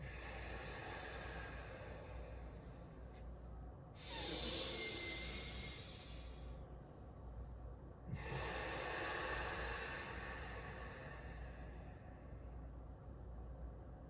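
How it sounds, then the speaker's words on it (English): Someone in a yoga session inhales through the mouth and exhales through closed lips, giving two long, soft, airy breath sounds heard close, with quieter breathing and a low steady background between them and no talking. "we're going to start to inhale through the mouth and exhale behind closed lips"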